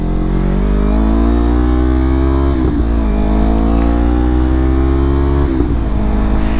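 A Yamaha R3 motorcycle engine, fitted with a changed chain and sprocket, revs up loudly and close while riding in traffic, its pitch climbing through the gears with a brief dip at each shift.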